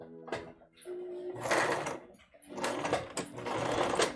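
A sewing machine stitches a test dress in short, steady mechanical bursts with brief pauses, close and fairly loud, without any talking.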